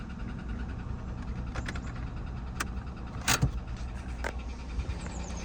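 An Opel Zafira engine idles steadily with a low, constant hum, punctuated by a few sharp clicks and a brief mechanical whir nearby.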